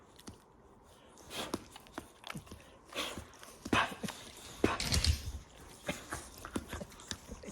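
A dog shifts about and gnaws nearby, making soft scattered thumps, clicks and scuffles at an uneven pace in a quiet room.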